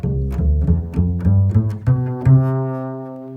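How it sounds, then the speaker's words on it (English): Bass guitar plays a scale as a run of distinct plucked notes, ending on a longer sustained tone that slowly fades, clear and close with no voices. "A scale sounds like this."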